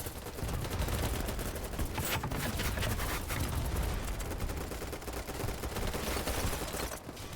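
Rapid rifle fire in the BattleBit video game, a dense continuous rattle of shots sustained for several seconds, loud and close with no talk.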